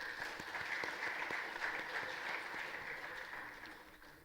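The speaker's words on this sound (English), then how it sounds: "Please give a huge round of applause for Dr." Steady, full audience applause at an academic workshop on intellectual property rights, many hands clapping together at a fairly even level for the whole stretch before easing slightly at the end.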